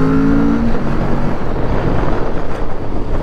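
A Kawasaki ZX-4RR twin-cylinder motorcycle accelerates on a demo ride, its engine note rising briefly before being swamped by steady, loud wind rush over the microphone.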